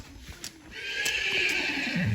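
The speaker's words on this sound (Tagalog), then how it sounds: "Nagsasakay-sakay kami ng kabayo." Horse on a farm field neighing in a rising whinny, with a few clip-clop hoof steps near the start, close and fairly loud against open-air background.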